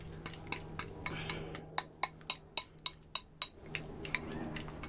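A spoon mashing and stirring hard-boiled egg yolks in a bowl for deviled eggs, clinking against the sides in a quick run of about a dozen sharp, close taps, with softer scraping before and after.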